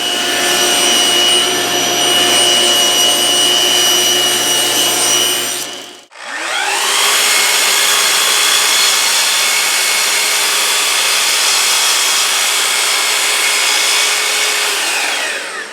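A power saw cuts wood panels to size for an end table case, a loud steady whining roar that briefly dies away, then spins back up and runs on, no voices.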